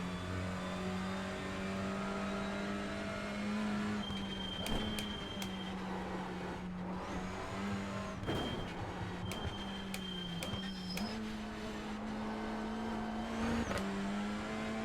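Touring car engine in the iRacing simulator driving a lap, a steady droning roar that rises and drops in pitch through gear changes and lifts, with brief high whines and clicks, continuous and alone.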